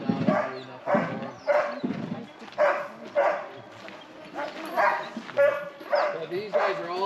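Iditarod sled dogs in an Alaskan dog yard bark and yip in repeated overlapping bursts, a loud, busy chorus from several dogs that carries on steadily, with no talk over it.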